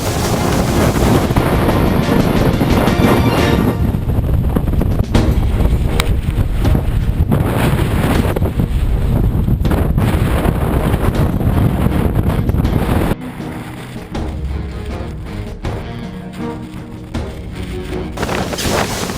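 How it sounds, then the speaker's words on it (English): Strong polar wind roars and buffets the microphone continuously at a snowy expedition camp, with a loud rumbling gust that eases somewhat toward the end. "it was cold outside and windy"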